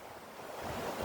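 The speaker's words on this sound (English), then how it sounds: "the wind is blowing" Wind blows across open hills from the west, a brief, steady rushing roar with gusty buffeting on the microphone.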